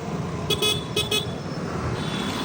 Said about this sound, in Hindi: ट्रैफिक तो देखो, हर जगह ट्रैफिक हो रहा है आज यार।